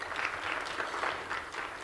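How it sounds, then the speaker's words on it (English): A conference audience applauds steadily, dense clapping from a crowd at moderate loudness, continuous throughout with no talk. "Let's give her another round of applause, please."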